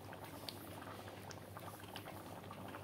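Lau shak (bottle gourd greens) curry boiling hard in a pot, with dense, steady bubbling and popping close up and no voices.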